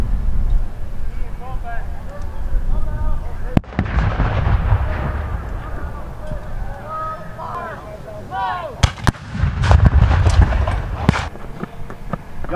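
Civil War reenactment cannons fire, with several heavy booms spread across the stretch, some close together, amid outdoor crowd noise and shouted commands.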